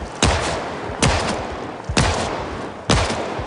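Gunfire in the Project Zomboid video game, four loud, evenly spaced gunshots close by, each a sharp crack followed by a short ringing tail, with no talk.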